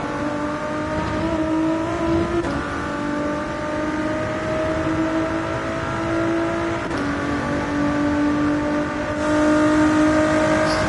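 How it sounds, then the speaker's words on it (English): A race car engine in a racing video game runs at sustained high revs, a loud steady whine broken by brief gear shifts around the third and seventh seconds, with no talking over it. "I also like this car because it sounds better than the other ones."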